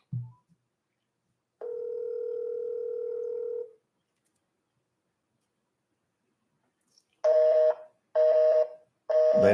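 Telephone signal tones while placing a call: a short blip, then a steady two-second dial tone, a pause, and three evenly spaced loud tone bursts, with no voices.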